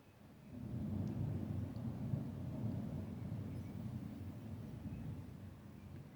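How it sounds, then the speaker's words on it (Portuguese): Low thunder rolls in before rain, a deep sustained rumble that swells after a quiet start and lingers at moderate distance for several seconds, alone without talk. "Tá trovejando, vai chover, vai chover."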